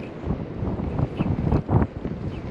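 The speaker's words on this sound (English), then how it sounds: "That wind's really picking up" Wind gusting across a shoreline on the Great Barrier Reef at very low tide, a steady broadband rush with rising and falling gusts and buffeting on the microphone, fairly loud and close, with no talking.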